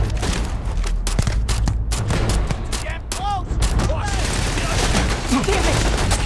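Heavy gunfire in the sci-fi game Starfield during a firefight, dense overlapping bursts and shots that are loud and sustained, with occasional whooshing effects and shouted voices mixed in.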